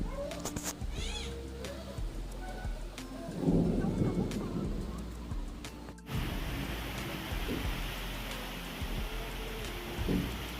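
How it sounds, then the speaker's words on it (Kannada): A deep roll of thunder rumbles nearby, then steady heavy rain sets in with a continuous hiss that lasts to the end. "ಜೋರಾಗಿ ಗುಡುಗದು ಆಗಾಕತ್ತೈತಿ"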